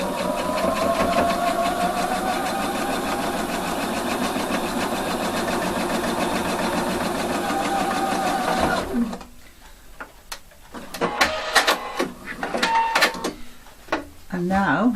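Sewing machine stitching through thick denim on a jeans button fly, a steady rapid mechanical whir for most of the span, then stopping and giving way to a person talking and scattered handling clicks.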